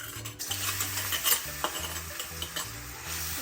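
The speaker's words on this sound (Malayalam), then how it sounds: "ഒരു ചീനച്ചട്ടിയിലേക്ക് ഒരു ടീസ്പൂൺ നെയ്യ് ഒഴിച്ചു കൊടുക്കുക. അതിലേക്ക് എടുത്തു വെച്ച പഴം ചേർത്ത് കൊടുക്കുക" Very ripe banana sautés in a teaspoon of ghee in a frying pan, sizzling steadily with repeated scraping stirs, while soft music plays underneath.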